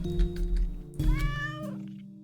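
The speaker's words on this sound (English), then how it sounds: "let's see what we do if we interact with the cat" A cat in a sibling-themed video game gives a clear, drawn-out meow over steady game music, preceded by a soft click.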